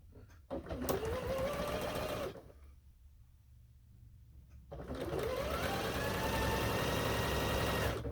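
A sewing machine stitches a quilt top in two fast bursts, whirring loudly, pausing briefly in near silence, then running again for several seconds, close and alone.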